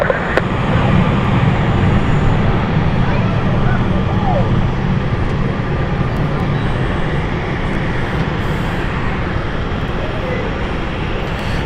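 A British Airways aircraft departs London City Airport, and a broad, steady jet roar fills the air at moderate distance, with traffic-like background noise underneath and no clear talk.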